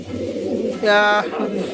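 Racing pigeons kept in a dirty, poorly tended loft, with a short burst of cooing rising briefly over a steady murmur of nearby voices.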